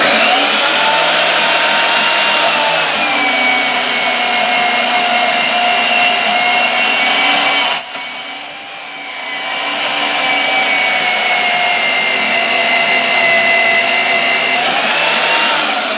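A Harbor Freight portable bandsaw, mounted on a chop saw style stand, cuts through metal with a steady, loud, close whine and hum that runs almost unbroken, briefly shifting pitch midway through the cut.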